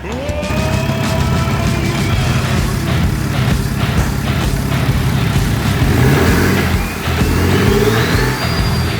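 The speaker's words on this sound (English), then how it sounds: "So we have finished the car, it is running." A rebuilt BMW 640d with an N57 diesel engine runs steadily and revs up, a close, loud and continuous engine drone with a rising pitch toward the end.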